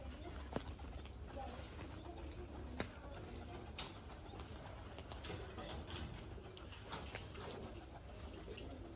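Rajshahi Giribaj pigeons coo softly in a loft setting, low murmuring calls repeating over steady background noise with a few sharp clicks, fairly faint throughout.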